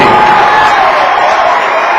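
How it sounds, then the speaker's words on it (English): A loud basketball gym crowd cheers and roars continuously at a youth game between Logan and PDA Storm, a dense wash of voices with whoops rising throughout. "The crowd like you."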